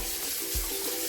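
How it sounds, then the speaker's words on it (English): Cold running tap water splashes steadily over spinach leaves in a sink, a continuous close hiss with light rustling and faint clatter. "So spinach being washed with cold water"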